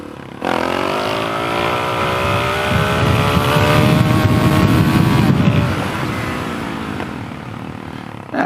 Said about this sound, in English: we did a nice little wheelie there just to kind of punctuate the moment